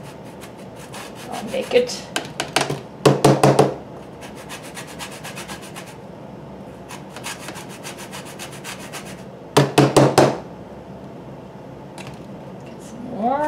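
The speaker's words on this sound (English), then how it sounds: "Okay, 1/4 teaspoon grated lemon zest." An organic lemon is rubbed against a grater for zest, giving bursts of quick rhythmic rasping strokes separated by quieter pauses, with a brief spoken remark near the start.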